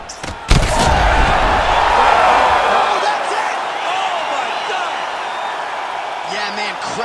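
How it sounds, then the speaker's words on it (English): A sudden heavy slam in EA Sports UFC 5 sets off a loud arena crowd roar that swells, then slowly fades, with a commentator talking over it. "crowd loving it"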